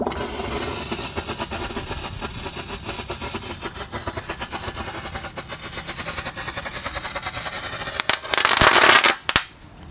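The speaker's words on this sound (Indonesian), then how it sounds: "ada disco happy flower yang pretek guys, yang warna biru keunguan guys ya" A disco happy flower firework crackles after being lit and dropped into a well, giving a rapid, continuous rattle of small pops for several seconds, then a louder burst of sharp cracks before it cuts off.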